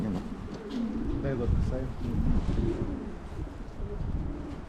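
Pigeons coo repeatedly at close range, their soft throaty calls rising and falling, while someone talks over them.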